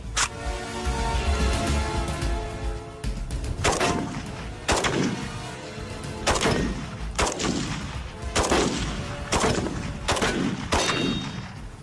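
AK rifle firing single shots outdoors, about eight loud sharp cracks spaced roughly a second or two apart, each with a decaying echo.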